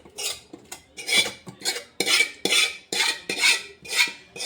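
Steel spoon scraping and clinking against a steel tiffin box as lemon chutney is spooned in, about nine bright metallic strokes in a steady rhythm, close and fairly loud with no talking.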